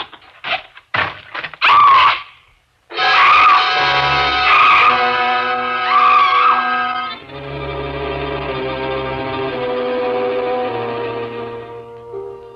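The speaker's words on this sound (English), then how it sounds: "I stopped screaming finally." A woman screams in an old suspense radio drama, several sharp short shrieks followed by long, loud, sustained wailing screams that fade into a lower drawn-out cry, close and dominating.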